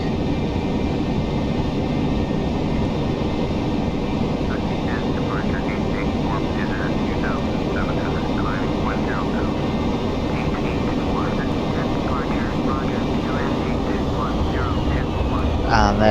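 Airliner engines roar steadily after takeoff in the FSX flight simulator on a flight from Bergerac to Birmingham, a constant broadband drone with someone talking over it throughout.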